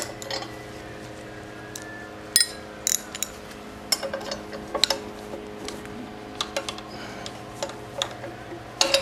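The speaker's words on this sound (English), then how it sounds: "This is a 1/2" wrench, holds this on" A 1/2 inch wrench works on a Maytag 72 engine during a rebuild, making scattered sharp metallic ticks and clinks of tool on hardware. The sounds are close and irregular over a steady low background hum.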